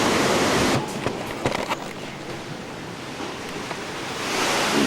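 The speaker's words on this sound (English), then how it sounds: "This is what my upstairs looks like with the water coming in." Hurricane Katrina floodwater surging into a house in Slidell, Louisiana, a steady loud rush of water and wind-driven surf noise that fills the whole clip, with a few sharp knocks and splashes midway.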